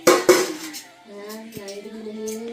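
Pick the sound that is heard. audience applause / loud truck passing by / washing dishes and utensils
washing dishes and utensils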